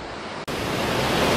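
Steady broadband roar of the waterfall at McGalliard Falls, loud and close, a continuous wash of falling water with a brief dip before it resumes at full strength.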